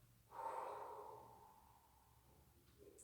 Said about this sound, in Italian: Dentro il respiro, fuori il respiro.